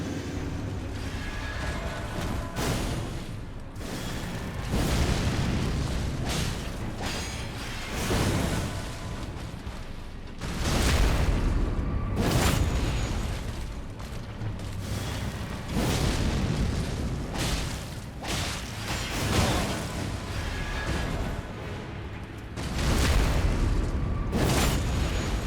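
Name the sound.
explosions from weapon attacks in video game Elden Ring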